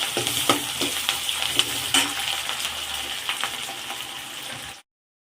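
Onions and green chillies sautéing in a pan for a fish curry, a steady sizzle with intermittent scraping and stirring clinks from a utensil, close and fairly loud, cutting off abruptly near the end.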